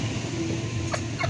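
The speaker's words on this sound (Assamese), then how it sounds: "এয়া হৈছে কয়লাৰ মুৰ্গী" Koyla chickens cluck in a poultry shop in Sivasagar, with short clucks over a steady background hum, close and moderately loud.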